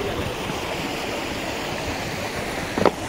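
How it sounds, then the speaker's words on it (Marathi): Sea waves on the Konkan coast: a steady broadband wash of surf, loud and continuous, with a brief splash or burst near the end and no voices. "बघा या लाटा"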